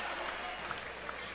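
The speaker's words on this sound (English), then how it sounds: "Crowd getting into it tonight" Brief burst of crowd applause and cheering in a high school boys varsity basketball gym, a dense, even wash of clapping at moderate distance.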